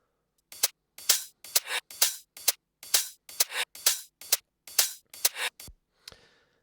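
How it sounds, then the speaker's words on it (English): A reversed hi-hat sample from a Logic X electronic music session repeats about a dozen times, each hit swelling from silence into a bright, hissy rush and cutting off sharply, in a steady rhythm. "Like a spooky hi-hat, a reversed hi-hat."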